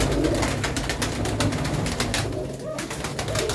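Pigeons coo in a loft in Ludhiana, soft repeated calls almost buried in constant broadband noise, with a faint bit of talk in the mix.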